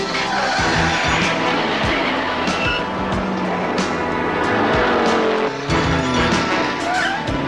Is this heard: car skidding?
yes